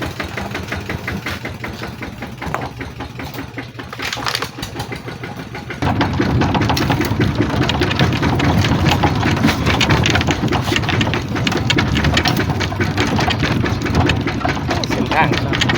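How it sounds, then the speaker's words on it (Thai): A walking tractor engine runs with a steady chugging idle, loud and close, growing heavier and rougher partway through as the load or throttle rises, with faint background noise throughout. "ไปกับรถไถคู่ใจ"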